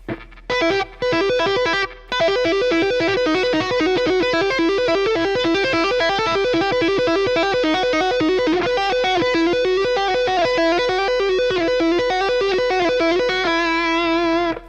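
A distorted electric guitar plays a fast tapped lick, rapid repeating notes in a steady cycle, loud and up front, with no voices.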